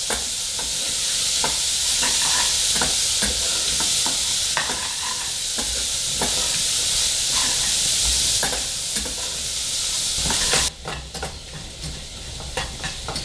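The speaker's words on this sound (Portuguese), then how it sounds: "Vou colocar agora meia cebola picada. Dá uma mexidinha." Chopped onion sizzles steadily in a hot pan while a utensil scrapes and stirs through it until it softens, close and continuous, with no voices.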